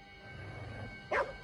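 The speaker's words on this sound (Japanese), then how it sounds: "何に向かって吠えてるんだ？" A single sharp dog bark rings out near the end in Ghostwire Tokyo, brief and fairly close over a quiet low ambient hum with a faint steady tone.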